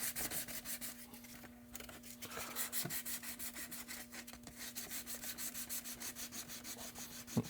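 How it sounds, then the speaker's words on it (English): Glazing putty on a Toyota RC truck body being hand-sanded in quick back-and-forth strokes, a steady rhythmic scratchy rubbing close up over a faint electrical hum, no talking. "Glazing putty sands real easy, so you don't have to sit here for hours sanding on it."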